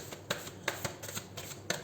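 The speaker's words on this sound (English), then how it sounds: "Yeah, we've done 3 shuffles, and now 1 or 2 cards from the Moonology deck." Moonology oracle cards being shuffled in a tarot-style reading give a soft, quick run of papery riffles and light taps, quiet and close, with no voices.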